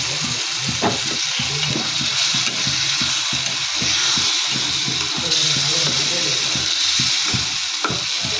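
Pigeon meat frying in a pan with spices, a continuous close sizzle with intermittent stirring scrapes and faint background talk.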